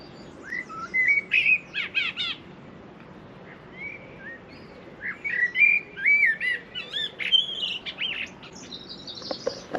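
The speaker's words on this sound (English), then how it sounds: "Isn't the birdsong magnificent?" Birdsong, including a blackbird, fills a quiet outdoor scene: clear whistled and chirping phrases in bursts with short pauses, moderately close, no talking.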